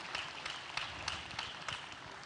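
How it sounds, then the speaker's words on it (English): Audience at a youth conference applauding, a steady moderate patter of many hands clapping, somewhat distant and even in level. "Please, another round of applause for him once more."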